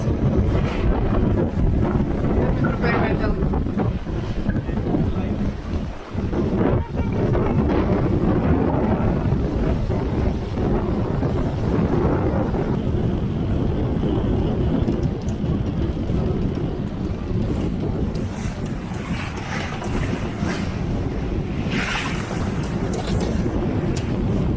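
A sailboat with reefed sails beats into steep waves in a strong Meltemi wind in the Aegean between Naxos and Amorgos, with a constant roar of wind buffeting the microphone and rushing, slapping water throughout, plus a brief spoken remark.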